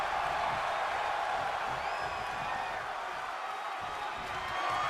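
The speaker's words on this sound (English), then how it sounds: "This crowd has been electric all night. I know you can hear them." Wrestling arena crowd cheering at an AWL event, a steady roar of massed voices filling the hall without a break, fairly loud and constant with no clear claps or peaks.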